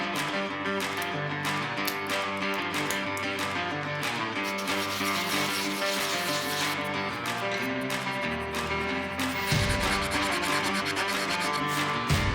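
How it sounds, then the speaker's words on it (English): Resin 3D printed Star Trek badges being sanded, a continuous dense rubbing and scraping that stays loud and steady throughout, with strokes blending together and no speech. "Now it's time to sand and paint these."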